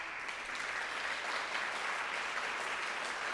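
An audience at a junior piano competition concert applauds steadily throughout, a dense even wash of clapping heard from a distance, with no voices over it.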